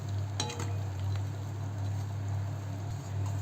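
Farsan is stirred into a curry in a pot, with a few light metallic clinks of a spoon against the pot over a steady low hum.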